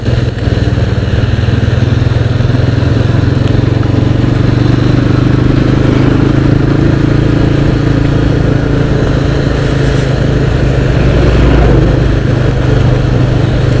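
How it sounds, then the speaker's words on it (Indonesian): Engine noise from an automatic scooter motorcycle on a rainy road ahead, a steady loud drone with low hum persisting throughout, no talk over it. "Di depan tuh ada kendaraan roda dua ya, motor matic gitu ya."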